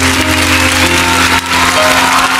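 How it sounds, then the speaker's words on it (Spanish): Studio audience applause for a departing guest on a Mexican TV comedy show, steady dense clapping that holds loud throughout with a short dip midway. "Y despedimos con un fuerte aplauso a Luis Franco"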